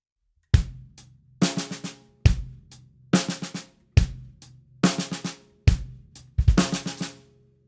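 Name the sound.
drum groove with ghost notes as 16th note triplets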